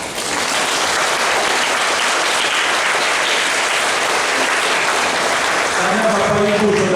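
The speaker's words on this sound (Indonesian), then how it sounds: "Saya ingin kita tepuk tangan untuk kerahiman Allah." A congregation at a Divine Mercy feast Mass applauds loudly and continuously, a thick sustained roar of clapping, with a voice beginning to speak over it near the end.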